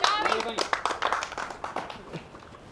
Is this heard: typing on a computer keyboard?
no